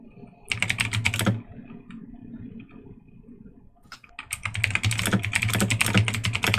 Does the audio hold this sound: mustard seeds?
no